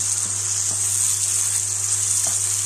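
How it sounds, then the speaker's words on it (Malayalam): Beef sizzles and fries in a pan, Kerala style, with a steady, bright crackling hiss and soft bubbling. Occasional faint stirring scrapes can be heard, and nobody speaks. "ഇനി ഇത് നമുക്ക് ഇത് നന്നായി വറ്റിച്ചെടുത്ത് ബ്രൗൺ കളർ ആവുന്നത് വരെ ഫ്രൈ ചെയ്തെടുക്കണം"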